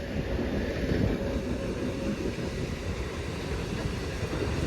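Steady low rumble and rolling rail noise of a near-empty passenger train going slowly by close near Dharwad, India, continuous throughout with no voices.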